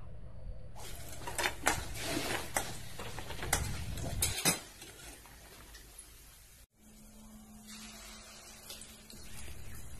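Paneer fries in hot oil with turmeric and salt, a steady sizzle under repeated clinks and scrapes of a metal spatula against the pan, then the sound drops to a quieter hiss.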